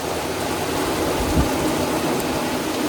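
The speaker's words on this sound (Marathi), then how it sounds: "इकडे तुम्ही पाऊस बघू शकता किती डेंजर पडून राहिला इथे, एकदम खतरनाक वाला" Heavy monsoon rain pouring down in the Konkan countryside, a steady dense hiss of falling water throughout with no voices.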